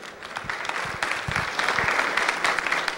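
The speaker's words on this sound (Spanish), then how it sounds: "Les pido que les demos un fuerte aplauso a nuestros panelistas" An audience at an engineering conference gives the panelists a strong round of applause, dense, even clapping that swells and carries on for several seconds with a faint voice underneath.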